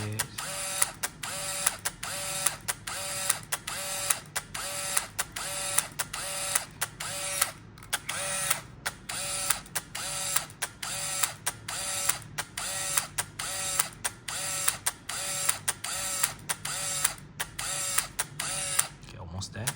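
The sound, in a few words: Konica MT-7 film camera motor winding film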